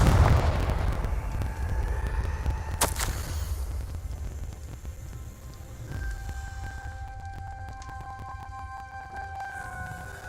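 A Confringo fire spell explodes in Hogwarts Legacy with a loud booming blast at the start, followed by a sharp crack, then a fading rumble and faint tonal ambience.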